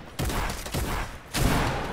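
Rapid bursts of gunfire ring out in a Fortnite match, two dense volleys separated by a short gap, loud and close with a faint hint of a voice underneath.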